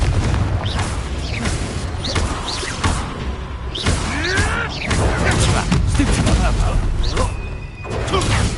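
Fiery spell blasts from the Confringo curse thud and boom during a wizard duel in Hogwarts Legacy, several explosive hits loud under dense combat noise and a talking voice.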